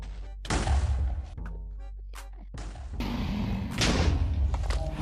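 End crystals blasting apart in Minecraft, a run of loud, booming thuds and explosive bursts close up, one after another with brief gaps between them and no talk.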